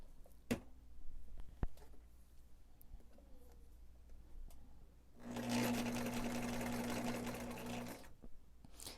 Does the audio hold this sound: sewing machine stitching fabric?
yes